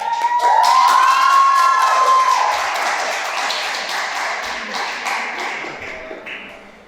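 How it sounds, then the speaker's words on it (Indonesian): Concert audience at a live K-pop style show applauding and cheering, a loud, dense wash of clapping and crowd noise that swells early then gradually thins, with a sustained whistle-like tone near the start. "Oke, tepuk tangan sekali lagi."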